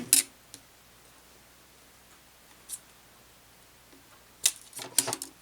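Plastic corset boning is snipped shorter with scissors, a few sharp close clicks, one near the start and a quick cluster near the end, separated by quiet.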